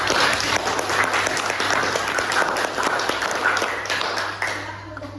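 A classroom full of people claps steadily for several seconds for a student group's presentation, the applause fading slightly at the end.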